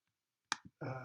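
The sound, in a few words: mouse clicks in drawing software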